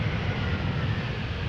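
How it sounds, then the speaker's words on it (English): Lufthansa Airbus A320 landing at Amsterdam Schiphol Airport in showery weather, a steady broad jet engine roar heard from a distance, continuous and even. "A320 landing now after 54 minutes of flight."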